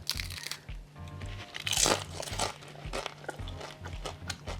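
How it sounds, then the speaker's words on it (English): Bites into the flaky pastry of a cinnamon custard tart, a few close, crisp crunches and crackles followed by soft chewing, with no talk. "crunchy pastry"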